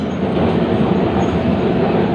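An electric Kolkata tram rolls along its rails with a dense, steady rumble of wheels and track, loud and close throughout, with no voices.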